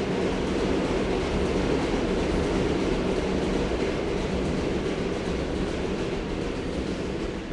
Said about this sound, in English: The lovely J train.